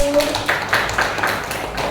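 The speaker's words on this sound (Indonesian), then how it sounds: "Tepuk tangan Nandaru" A classroom gives a short burst of rhythmic group clapping for a student, the claps landing in an even pattern for about two seconds with voices mixed in.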